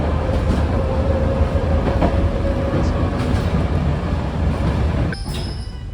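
A train rumbles steadily along the rails near Herculaneum, Italy, heard from inside a carriage, with a low continuous roar, faint rattles and a brief high squeal near the end.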